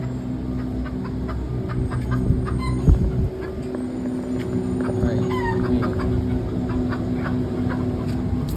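Chickens cluck and chirp in short scattered calls outdoors in Oahu, Hawaii, over a steady low background rumble, fairly close and moderately loud.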